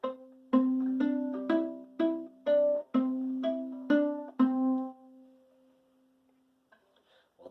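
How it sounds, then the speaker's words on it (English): Viola strings plucked pizzicato, a run of about nine clear, ringing plucks at a steady, moderate pace, each note decaying before the next, then a sustained final note fading out into near silence. "That pizzicato sounds like this."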